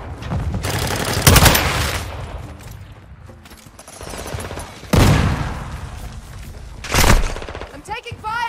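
Bursts of automatic gunfire and heavy blasts in a Modern Warfare 2 Hardpoint match at Santa Sena Border Crossing, loud close volleys at intervals amid battlefield noise, with brief in-game voice callouts.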